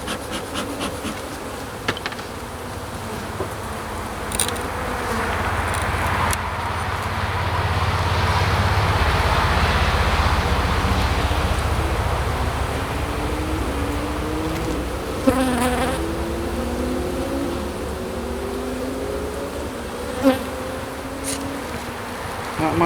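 Honeybees buzzing loudly and continuously around an open hive during a spring inspection, a dense close drone that swells in the middle, with occasional clicks and knocks from handling the frames.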